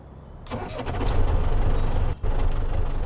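In the Farming Simulator 15 video game, a tractor engine cranks and catches, then settles into a loud, steady, close rumbling run with a brief dropout partway through.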